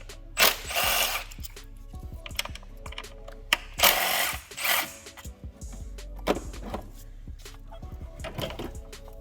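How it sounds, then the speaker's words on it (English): Tools work on 8mm coil bolts atop a 2015–2017 Mustang 3.7 V6 engine, giving scattered metallic clicks, ratchet-like rattles and a few louder scraping bursts, close up with brief pauses. "you're going to take these 8mm bolts out for your coils"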